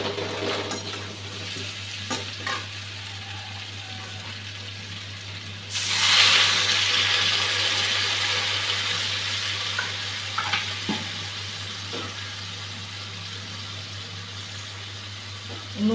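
A hilsa fish head goes into hot spiced oil with sweet pumpkin, and the sizzle surges loudly at once before settling into a steady crackle, with a few light utensil clinks and pan knocks scattered through.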